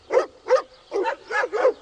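A fila herding dog barks five times in a quick, loud, close run, with a short gap in the middle and no other sound around it.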